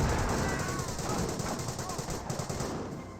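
Dense, continuous gunfire rattles on Pioneer troops in Company of Heroes 1, with rapid overlapping bursts and battlefield noise filling the whole stretch at steady loudness, and a voice talking over it.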